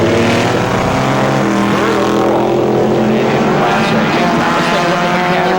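Race cars in an SCCA World Challenge event at Mid-Ohio, including old Oldsmobile Achievas, roar past in overlapping engine notes that rise and fall in pitch as they pass, loud and continuous.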